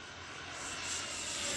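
Freewing Zeus 45NT turbine RC jet making a pass on its first flight outdoors, a steady broadband turbine roar and rush building slightly louder as it closes, with no voices.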